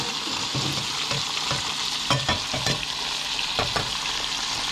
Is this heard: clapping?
no